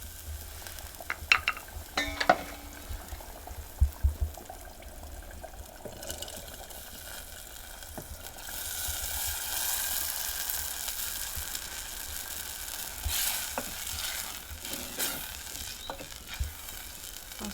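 Boiled toor dal cooks in a pan with onion masala, giving a soft, steady sizzle and bubbling, broken by a few clinks and scrapes of stirring early on, then a fuller frying hiss.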